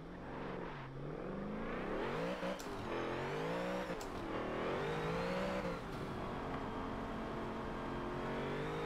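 Engine of a 1000hp drag build in Forza 7 revving hard and continuously to heat the rear tyres, a loud sustained roar with rising and falling pitch sweeps.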